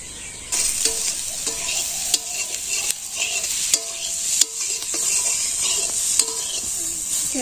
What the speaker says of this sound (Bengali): এই ডিম মাছ ভাজি করলাম, আমার বেগুন ভাজলাম